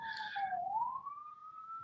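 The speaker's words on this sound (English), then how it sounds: "as you can tell by the sirens in the background, I'm here in the middle of New York City" Police siren wailing on a New York City street, a steady tone that dips and rises again in a slow sweep, fairly loud and alone with faint traffic rumble beneath.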